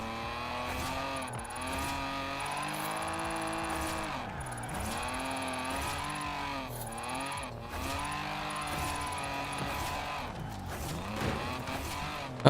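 A car drifts with the handbrake in Forza Horizon 4, its engine revving continuously while the tires squeal and skid through repeated corners, loud and steady throughout.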